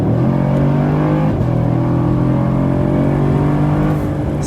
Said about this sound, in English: Now let's listen to the mid-range torque.